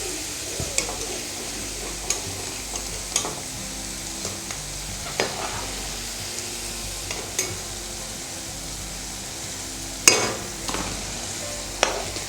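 Okra (lady finger) pieces deep frying in hot oil give a steady close sizzle, with periodic sharp clinks and stirring taps as the pieces are turned and oil is ladled over them.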